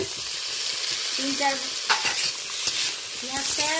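Onion and tomato fry in a hot spiced-oil tempering, a steady close sizzle broken by irregular scraping clicks of a spatula being stirred through the pan. No voices are heard.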